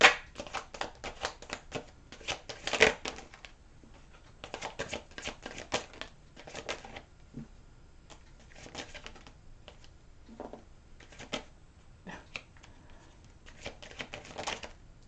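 A deck of tarot cards shuffled close up in quick riffling bursts of crisp papery flutter, separated by short pauses, quiet and without talk.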